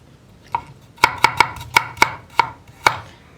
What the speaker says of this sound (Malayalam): ഇഞ്ചി ചെറുതായിട്ട് മുറിച്ച് വയ്ക്കാം